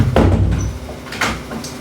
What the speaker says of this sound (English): next is to provide privacy by closing the door